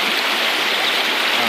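Fast-flowing stream water rushing steadily beside a gold sluice, a dense, continuous broadband wash that stays loud and close throughout with no voices.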